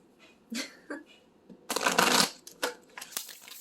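Angels Oracle cards shuffled by hand in a few quick riffling bursts, close and crisp, with short pauses between, the longest burst in the middle; no talking.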